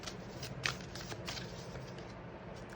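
Tarot cards shuffled and drawn by hand, a faint continuous riffling patter with a couple of slightly sharper flicks, quiet and close, with no voice.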